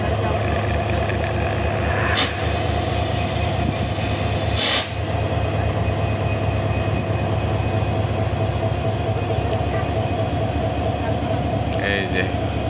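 Rail engine train moving along the tracks, a continuous loud rumble with rhythmic clatter and a couple of sharp metallic squeals.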